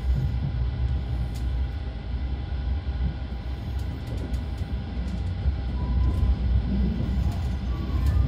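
An Intercity train runs on rails between Welkenraedt and Liège-Guillemins via Montzen and Visé, heard as a continuous low rumble from inside the carriage, steady and slightly building toward the end.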